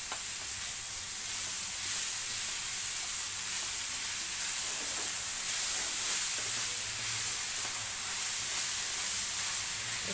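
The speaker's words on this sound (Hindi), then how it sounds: "इसको भी ऐसे स्टर फ्राई करेंगे" A pan of methi mattar is stir-fried at home, keeping up a steady bright sizzle with hiss that stays even and continuous, close by and without pause.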